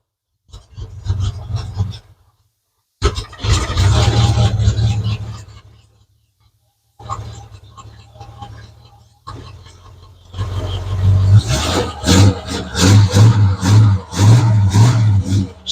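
1950 Ford F1 flathead V8 engine, cold and recently fitted with an electric fan, running and revving in close, loud bursts separated by short silent breaks, the last stretch rougher with repeated throttle blips.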